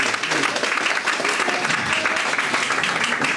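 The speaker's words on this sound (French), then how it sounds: "Oui, vous pouvez applaudir." An audience gives loud, sustained applause to welcome a guest, the president of a Green party. The dense crowd clapping holds steady throughout, with a faint murmur of voices beneath it.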